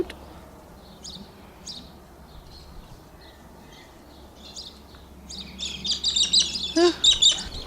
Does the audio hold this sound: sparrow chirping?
yes